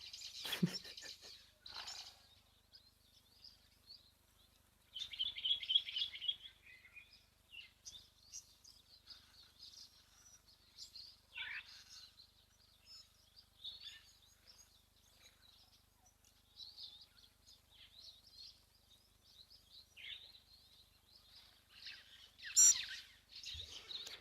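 Birds call and chirp intermittently at a waterhole, thin high notes scattered through the clip over quiet background, with a louder burst near the start, around five seconds and another near the end.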